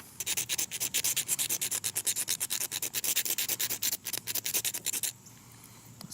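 Shavings are scraped off a magnesium fire starter block in quick, rhythmic rasping strokes, about twenty close, scratchy passes over five seconds, then stopping abruptly into quiet.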